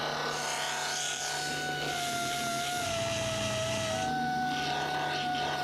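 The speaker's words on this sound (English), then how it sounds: "so I'm going to switch to the belt sander." A belt sander working over a repaired car bumper, giving a steady continuous abrasive rasp and motor whine that runs throughout at close range, with slight shifts in pitch as pressure changes.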